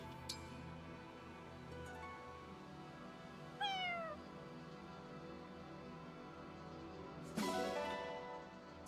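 A cat in Fire Emblem Engage gives two clear, close meows several seconds apart over soft background music, and no one speaks.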